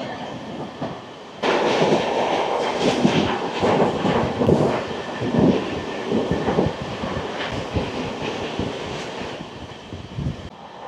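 Kanchanjunga Express passenger train rolling through Kamarkundu station, a loud continuous rumble with clattering wheels and wind buffeting the microphone, heard from on board.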